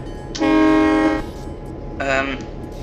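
An EMD F7 diesel locomotive sounds its horn twice, a long loud blast followed after a short gap by a briefer one, over a low rumbling background.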